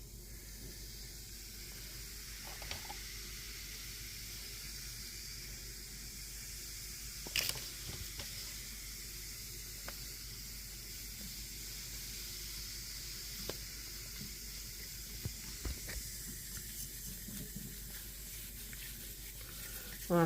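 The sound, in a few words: baking soda fizzing on brass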